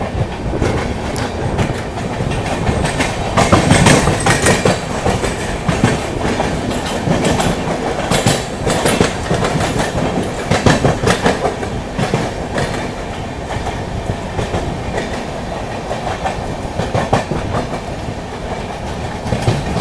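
A Lucknow–New Delhi AC superfast express runs at speed past Sahibabad Junction, overtaking the Baba Baidyanath Dham Humsafar Express on a parallel track, with loud, continuous rumbling wheel clatter and rhythmic clicks throughout.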